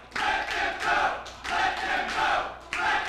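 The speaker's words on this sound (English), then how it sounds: "a standing ovation given to the two combatants" A wrestling crowd gives two competitors a standing ovation after a draw in an APW Gym Wars main event, with rhythmic chant-like bursts of cheering and shouting rising and falling in repeated waves.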